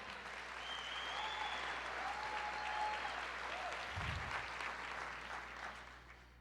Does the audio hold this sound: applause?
yes